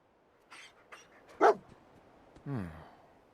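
The dog companion in Fallout 4 gives a couple of soft yips, one sharp bark, then a drawn-out whine, fairly close with quiet gaps between.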